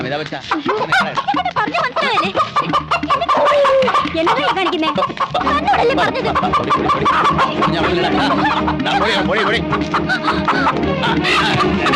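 A live chicken squawks and clucks loudly and repeatedly just before its neck is wrung in a comedy scene, its cries mixed with background music and people talking.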